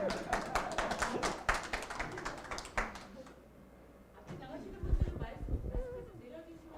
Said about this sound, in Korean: 민생경제연구소의 안진걸 소장님 박수로 모시겠습니다